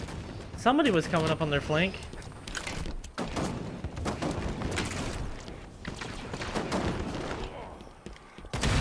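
Gunfire and sniper shots ring out in the video game Halo 5: Guardians, a series of sharp reports and mechanical clatter mixed with game effects while players talk over it.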